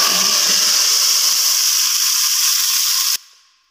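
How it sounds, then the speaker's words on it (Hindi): Loud, steady hissing sizzle of cumin seeds hitting hot oil for a karhi tempering, continuous for a few seconds before cutting off sharply and fading. "अब हम तड़का लगाएंगे।"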